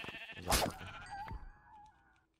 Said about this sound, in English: Oh, sheep. Look, sheep.